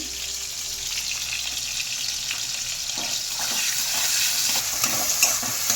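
Tomatoes with salt fry in a pan with a steady, bright sizzle that grows slightly louder, broken by a few soft stirring scrapes, close by and with no talking.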